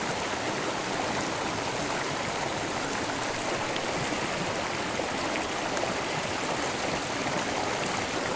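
Mountain creek water rushing steadily over rocks, a constant broadband wash close by and fairly loud from start to finish, with no voices.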